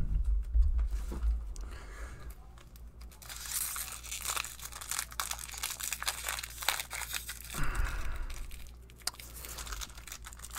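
A Magic the Gathering Double Masters booster pack being torn open: crinkly foil wrapper tearing and crumpling in bursts, with rustling and handling noises between them.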